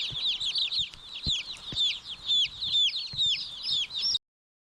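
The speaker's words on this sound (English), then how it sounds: "we purchased 110 meat bird chickens." A large flock of about 110 meat bird chickens on a farm clucks and chirps busily, with many overlapping calls and a few soft thumps, close and continuous before cutting off suddenly.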